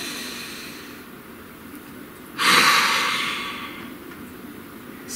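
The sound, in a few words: deep breath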